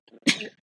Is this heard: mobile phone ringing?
no